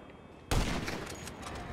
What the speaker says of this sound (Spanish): eso han sido dos tiros.